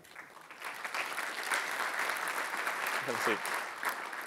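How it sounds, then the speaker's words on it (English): Moderate applause from a conference audience as guests come onstage, a steady wash of clapping heard at some distance, with a brief spoken voice breaking in near the end. "you can clap"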